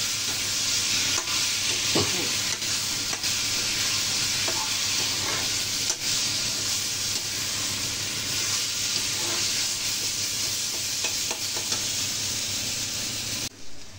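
Boiled eggplant being stirred and fried in a pan for begun bhorta, a constant loud sizzle with scraping spatula strokes through the hot oil, close and uninterrupted, no talking.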